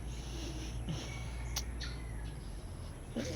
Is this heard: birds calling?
yes